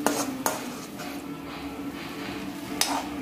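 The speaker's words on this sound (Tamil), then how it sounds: "அதுதான் நல்லா வதக்கணும் அது எல்லாம், அந்த பெப்பரு இந்த வத்தல் பொடி இப்படிலாம் எல்லா இடத்துக்கும் போய் சேரணும்." Yippee egg noodles are sautéed in a pan with pepper and chilli powder, with a low frying hiss beneath a few sharp metallic clinks of a spoon striking the pan.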